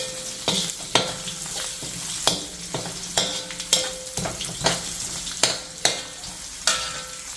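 Ginger and garlic pieces sizzle in hot oil in a kadhai for kadhai chicken, with a steady frying hiss broken by sharp spoon scrapes and clanks about once a second, close and fairly loud, with no talking.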